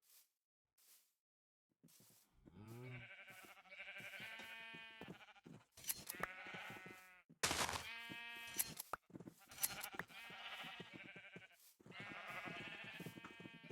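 Sheep in the video game Minecraft bleat over and over, loud and near, with wavering calls in quick succession and only brief gaps between them.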